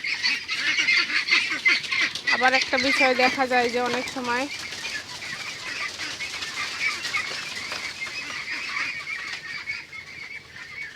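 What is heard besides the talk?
domestic ducks honking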